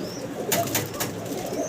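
Red magpie pouter pigeons flap their wings in a few quick bursts, a soft rustling flutter close by against a steady low background murmur, with no voices.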